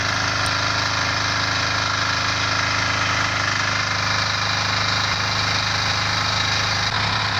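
Homemade log splitter driven by a walk-behind tractor in first high gear, splitting knotty dry and wet logs; a steady loud engine drone with mechanical rattling runs throughout.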